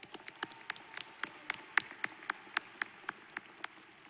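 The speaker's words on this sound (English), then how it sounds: "Please give Dr. Jackson another round of applause" A thin round of applause at a university commencement for a keynote speaker: sparse, separate claps landing at an uneven pace, some sharper and louder than others, faint and fairly distant with no talking.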